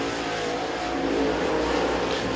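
Super late model race car on a qualifying lap at Crossville Speedway, a loud sustained engine drone that swells slightly as it passes, with no talk.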